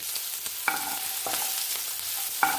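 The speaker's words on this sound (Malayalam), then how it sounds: "ഇഞ്ചി ഒന്ന് വാടി വരുമ്പോൾ അതിലോട്ട് ചതച്ച് വെച്ചിരിക്കുന്ന വെളുത്തുള്ളി ചേർക്കുക" Crushed ginger and garlic sauté in a pan for Kerala-style sardine curry: a soft, constant sizzle broken by a few sharp spatula strokes and scrapes.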